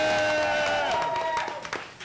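Crowd at Benchwarmers Sports Grill cheering and clapping, a loud burst of whoops and applause with a high drawn-out voice over it, thinning into scattered claps and voices within two seconds.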